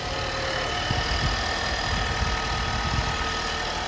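A Nissan 1.6 liter turbocharged four-cylinder engine idles steadily, with a smooth, constant low rumble and faint mechanical ticking throughout, heard up close with no talking.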